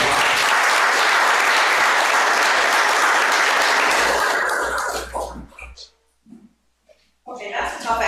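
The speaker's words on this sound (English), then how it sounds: "So give them a round of applause" Loud sustained applause from an audience at a borough council meeting honoring flag football volunteers, fading out after about five seconds into near silence before a voice begins.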